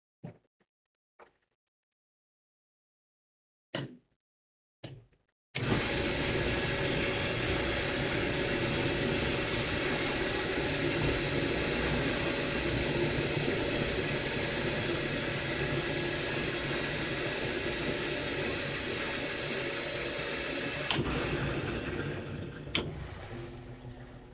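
The bottom flap of an observatory dome is set moving after a few sharp clicks and knocks, then grinds along with a steady mechanical motor rumble for about fifteen seconds before thudding to a stop.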